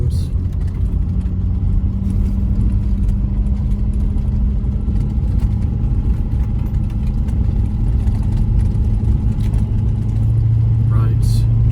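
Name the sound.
Ford F250 truck driving on a bumpy road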